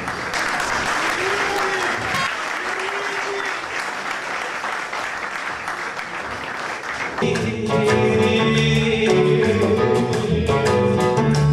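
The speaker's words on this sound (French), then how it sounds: "Sur vos applaudissements, mesdames et messieurs." Applause from an audience at a salsa concert celebrating the band, steady dense clapping filling the room for several seconds before band music starts up underneath and carries on.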